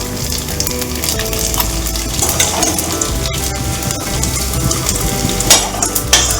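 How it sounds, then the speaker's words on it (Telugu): Onion pieces sizzle steadily in hot oil for a dried fish curry, with a loud continuous frying hiss and occasional clinks of a stirring utensil against the pan. "ఈ నూనెలోనే ఉల్లిపాయ ముక్కలు వేసేసుకున్నాము."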